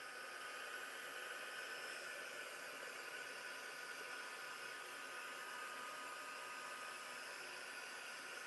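A hair dryer blows steadily over a mixed media artwork, a constant loud airy whoosh with a bright hiss that holds unchanged for the full stretch, with no voices.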